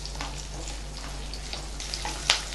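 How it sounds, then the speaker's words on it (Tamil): Onions half-frying in a pan for gobi manchurian give a steady, soft crackling sizzle throughout, with one brief sharper pop near the end and no speech. "ஆனியன் ஃப்ரை ஆயிடுச்சு."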